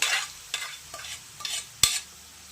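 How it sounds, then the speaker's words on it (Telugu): Pumpkin paste cooking in ghee for halwa, with soft sizzling broken by a spoon stirring and scraping the pan in five distinct strokes, the last one sharper and louder. Nearby and moderately quiet, with no voices. "ఇప్పుడు ఇది నెయ్యిలో బాగా వేగనిచ్చుకోవాలన్నమాట"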